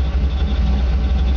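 A 1956 Chevy 3100 pickup engine idles with a low, steady rumble, close and continuous.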